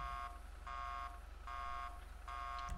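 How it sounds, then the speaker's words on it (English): A car alarm blares in GTA V, a loud, buzzing, pulsing electronic tone cycling on and off about every half second, steady and alone. "It toggles the alarm."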